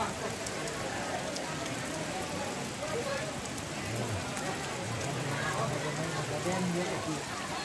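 Light rain patters steadily outdoors at a Toraja tongkonan as it eases off, an even soft hiss of drops throughout with faint voices low in the background.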